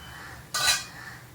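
A metal lid lifted off a pan of malpua cooking in ghee gives one short, bright clatter of metal, close and fairly loud, over a faint steady background hiss.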